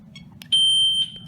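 A SimpliSafe home security alarm set off from the keypad's panic button, programmed as a fire button, sounds one loud steady high-pitched tone for about half a second after a brief beep, over a low background hum.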